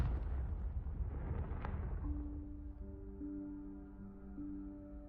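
Confringo blasting spell from Hogwarts Legacy bursting in a loud, broad explosion that rolls off over a couple of seconds, followed by sustained tonal hum as the blast decays.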